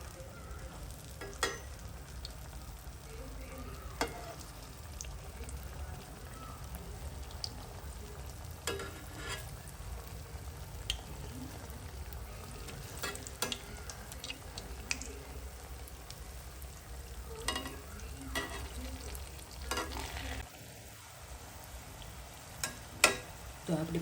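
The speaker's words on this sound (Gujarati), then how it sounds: "તો હવે આપણે ધીમે ધીમે પેટીસ મૂકીને તળી લઈશું ધીમા ગેસે" Surti patties deep-frying in a pot of hot oil over a low flame, giving a steady, continuous sizzle with scattered crackles and occasional utensil clinks, with no talking.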